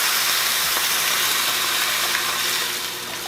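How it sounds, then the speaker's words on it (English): Beef broth is poured into a hot pot of garlic and onions, giving a loud, steady hiss and sizzle like steam that eases off slightly toward the end. "And then we're going to put in our broth."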